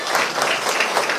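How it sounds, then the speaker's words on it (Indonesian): Schoolchildren give an elementary school teacher a brisk round of applause, a dense and even patter of many small hands clapping close by. "Tepuk tangan untuk Pak Guru dong"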